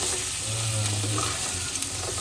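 Onions and spices fry in a pan, a steady close sizzle with stirring scrapes and a light clink, continuous with no voices over it.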